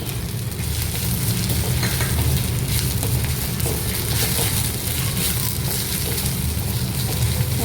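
Kashmiri and regular chilli powder frying in a pan for a quail egg curry while being stirred steadily, giving a continuous, close, even sizzle with faint scraping throughout.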